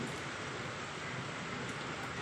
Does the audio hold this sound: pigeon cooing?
no